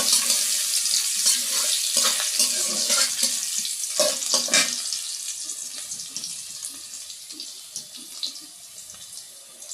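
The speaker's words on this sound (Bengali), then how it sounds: "বাগার দেওয়ার জন্য আমি এই যে পেঁয়াজ রসুন আর তেল দিয়ে দিলাম" Onion, garlic and oil sizzling in a pan for a tempering, a steady hissing spatter that stays fairly loud throughout and eases off a little toward the end, with no talking.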